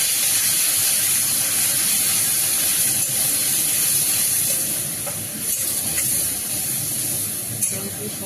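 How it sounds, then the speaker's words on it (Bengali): Yogurt being stirred into a frying dish in a pan, giving a steady close hiss and sizzle with faint scraping throughout. "দই দিয়ে সমানে নাড়াতে থাকবেন একটু।"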